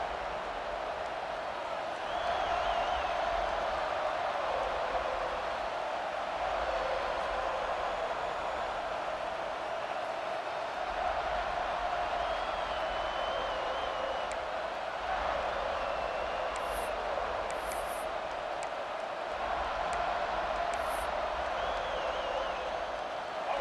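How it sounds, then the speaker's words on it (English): Stadium crowd noise in College Football 26, a dense, steady roar of a home crowd swelling into a war chant on third down, continuous throughout with faint whistle-like accents. "A cacophony of noise, debilitating surround sound, the war chant on 3rd down"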